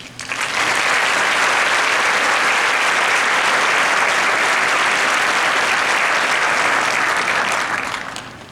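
Sustained audience applause welcoming speakers onto a stage at an education committee event, a dense, steady wash of clapping that swells quickly, holds for about eight seconds and tapers at the end.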